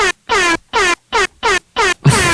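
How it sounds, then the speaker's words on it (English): Loud, close Jamaican air horn blasts, six rapid honks in a rhythmic pattern with brief silences between, the last one blaring longer and harsher. "now I'm going to hit y'all with some Jamaican air horns"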